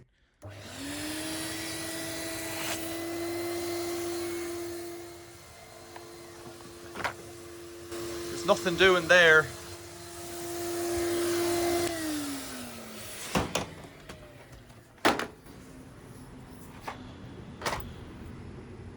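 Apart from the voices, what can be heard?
Numatic Henry HVR200 vacuum cleaner running, blocked pipe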